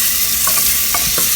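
Onion frying in a pan for dal fry gets stirred with a utensil, a loud close sizzle with a few soft scraping strokes knocking through the steady hiss, and no voices.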